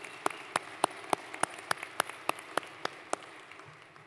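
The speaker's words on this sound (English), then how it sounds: "join me in giving a quick round of applause" A small audience at the Georgia Technology Summit 2023 gives a brief burst of applause, heard as a dozen or so sharp, evenly spaced claps with a thin wash of clapping behind them, fading out near the end.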